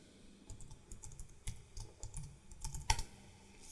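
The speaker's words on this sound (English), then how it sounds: "We're going to type that in and hit enter." A password is typed on a Mac computer keyboard: soft, irregular key clicks nearby, ending in a sharper tap like the enter key. Quiet room, no speech.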